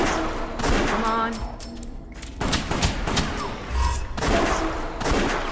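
Rapid bursts of gunfire and blasts from the video game West of Dead, dense volleys of shots with brief gaps between them.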